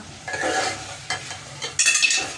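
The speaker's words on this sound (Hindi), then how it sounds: "तो ये हमारा कीमा भुन रहा है।" Minced meat (keema) frying in a home kitchen pan, a low sizzle broken by a few brisk scraping stirs, close and fairly loud, with no talking.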